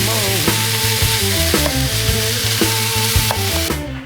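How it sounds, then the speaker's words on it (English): A pan sizzles loudly and continuously with hissy frying noise, while rhythmic music with bass and melody plays along underneath. "Noisy pan."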